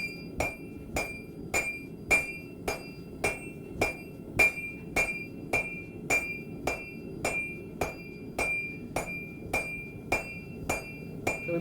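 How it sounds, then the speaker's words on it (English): A hammer strikes metal on a Kanka anvil in a bladesmithing forge, about twenty bright ringing clinks in an even, steady rhythm, close and clear with no talk. "It's a real nice anvil. I've been using it."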